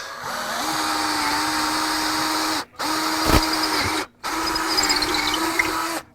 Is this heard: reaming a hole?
yes